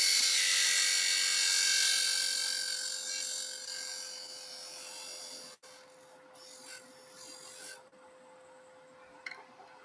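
A parting tool cuts into spinning wood on a lathe, a steady high scraping whine that fades and thins out over several seconds, followed by a few small taps and rubs.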